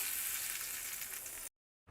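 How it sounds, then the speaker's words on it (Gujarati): Hot mustard seed tempering with curry leaves and red chilli poured into green chutney, giving a loud, steady sizzle that cuts off abruptly, a short silence following. "તૈયાર થયેલો વઘાર ચટણીમાં ઉમેરી દેશું"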